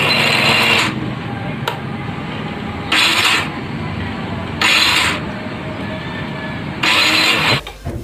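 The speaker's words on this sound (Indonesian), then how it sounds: "kalau seumpama di starter, nah magnetnya nggak berputar" Electric starter on a Yamaha Vixion motorcycle with a faulty one-way starter clutch, heard as four separate bursts of harsh whirring that stop and start in an uneven rhythm. The engine never catches.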